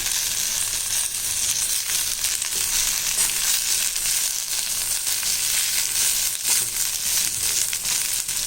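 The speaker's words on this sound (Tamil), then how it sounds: "இது கொஞ்சம் நல்லா வதங்கட்டும்." Thoothuvalai leaves with turmeric sautéing in a pan give off a dense, continuous sizzle and crackle, loud and close, with steady frying and no voices.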